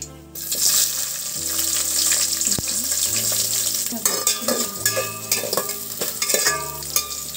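Onions fry in hot oil with cloves and cinnamon in a kadai, giving a loud, bright sizzle with clattering stirs and scrapes that grow choppier toward the end.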